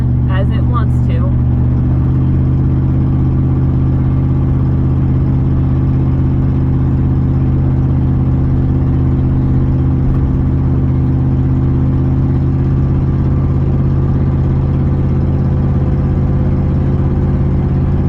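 A 1999 Chevy Silverado pickup on a test drive, with a loud, steady engine drone and road rumble filling the cab the whole time, the pitch holding nearly constant after a brief faint tap at the start.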